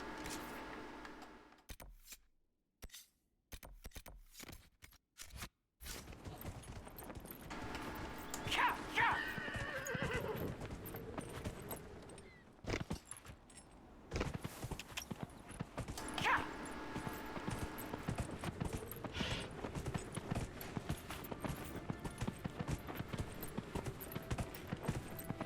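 In Dragon Age: Inquisition, a horse whinnies loudly and its hooves clop in a steady rhythm across the ground. Brief gaps break the start, and a voice talks over parts of it.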